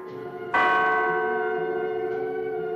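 A church bell rings out loudly, struck once with a bright, ringing tone that hangs and slowly fades, followed by a fainter second stroke behind the lingering hum.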